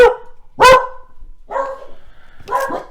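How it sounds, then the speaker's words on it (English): Four dogs' barks in separate bursts, loud, close and harmonic, spaced out with short pauses between them. "Even the dogs are barking."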